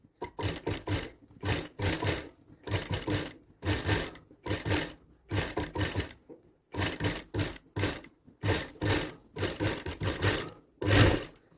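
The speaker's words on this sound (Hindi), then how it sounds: "अब नीचे वाली साइड भी हम सिलाई लगा देंगे इसमें, यहाँ से भी हम सिल देंगे 1/4 इंच का।" A sewing machine stitches blouse fabric in quick, even bursts of needle clatter, separated by brief pauses as the cloth is guided along.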